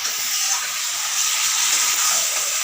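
Mutton curry sizzling and frying in a pan with onion, ginger, garlic, chilli and turmeric: a steady, loud, close hiss that holds unbroken throughout, with no voices.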